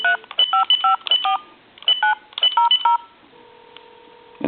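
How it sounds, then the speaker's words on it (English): Touch-tone digits are dialed on a telephone connected to a 1907 Strowger exchange to reach a time-and-temperature number, a quick run of clear beeping tones followed by a steady line tone, close and loud. "I'm going to take another phone and I'm going to dial time and temperature."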